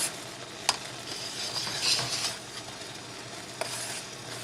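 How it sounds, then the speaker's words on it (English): A spoon stirs meringue pie pudding in a cooking pot, soft scraping and swishing with a couple of sharp taps against the pot rim, close and alone. "And stir that back in, and then you let that cook till it gets thick."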